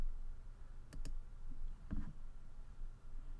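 A computer mouse gives a double click, a short pause, then another soft click, all faint against a steady low room hum.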